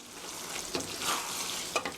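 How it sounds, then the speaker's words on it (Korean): Spaghetti in tomato sauce being stirred in a pan after a ladle of pasta water goes in, a soft continuous wet sizzle with two brief louder scrapes, no talking. "면수 한 국자 넣어주시고요. 그리고 섞어주세요."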